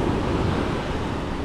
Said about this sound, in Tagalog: Eh, malaki alon doon.